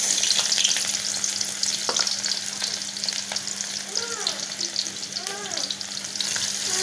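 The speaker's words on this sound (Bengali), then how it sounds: "অল্প কিছু পেঁয়াজ দিয়ে আমি হালকা করে একটু ভেজে নেব।" Onions frying in hot oil with tempered cumin seeds for a fish curry, giving a loud, continuous sizzle with occasional stirring scrapes and brief chirping squeaks from the pan.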